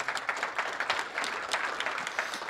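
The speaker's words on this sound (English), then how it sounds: "That's a round of applause." Scattered audience applause at a live business pitch event, uneven clapping with distinct individual claps, fairly close and with no talk over it.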